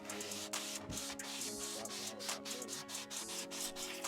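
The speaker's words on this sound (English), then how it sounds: "it'll let you get into grooves like this and be able to actually sand it" A flexible sanding sponge rubs over a wooden cabinet during refinishing, making continuous close scratchy strokes with a rhythmic back-and-forth texture over a faint steady hum.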